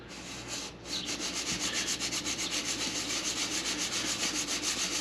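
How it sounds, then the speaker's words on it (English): A homemade metal surface gauge being lapped on 220 grit sandpaper, making a steady, rhythmic rasping rub in quick repeated strokes, close and continuous after a brief pause near the start, with no voices. "Again, we're starting with the 220 grit. And it's a smaller piece of sandpaper,"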